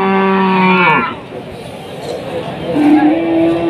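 Cattle at a cattle market in Tuban, East Java, with a loud, drawn-out moo up close followed by another lower moo, over a murmur of crowd chatter.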